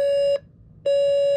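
A Magnavox AJ3440 alarm clock's alarm sounds as two loud, sustained electronic beeps separated by a short gap, heard up close with no speech.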